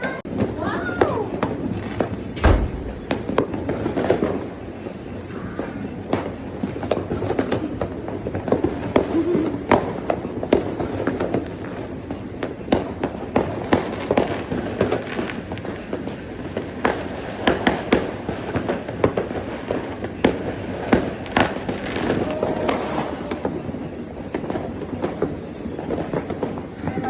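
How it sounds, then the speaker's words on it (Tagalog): New Year fireworks in Bali at Rivercrest Villa, a dense barrage of sharp bangs and crackles at varying distances, continuous over nearly half a minute, with excited voices shouting and exclaiming throughout. "Ang daming fireworks!"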